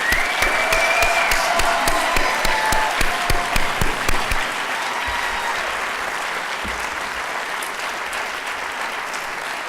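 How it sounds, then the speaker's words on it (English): Loud, sustained applause from a large crowd, with sharp individual claps standing out early before settling into a steady wash of clapping. "one more round of applause for the 2016 NHS inductees."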